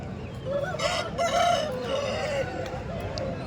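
Desi breed chickens at a Sankranti festival market in Kundarpalli, with a rooster crowing nearby in a couple of drawn-out calls over low crowd murmur and scattered clucking.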